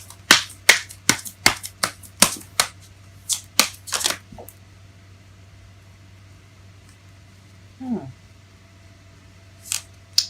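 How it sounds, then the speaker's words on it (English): Tarot cards are shuffled with a quick run of crisp, close riffling snaps and slaps over about four seconds, then a few isolated taps and a voice briefly in the background. "It fell face up as I was shuffling."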